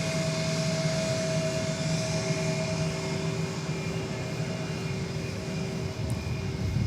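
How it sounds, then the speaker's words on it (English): An American Airlines A320 taxis past at DFW airport, its steady jet engine whine and broadband roar holding constant and close throughout, with sustained tonal hum layered over the rumble. "That A320 that just rolled past us is on its way to El Paso, Texas."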